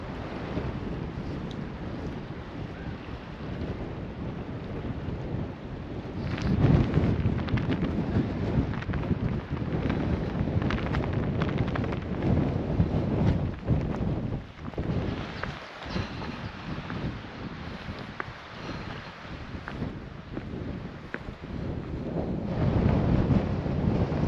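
Strong wind on a ridge above a loch buffets the microphone in heavy, roaring surges that rise and fall for a long stretch, with no voices.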